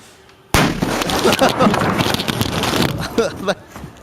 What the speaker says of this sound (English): Don't put fireworks in a fridge.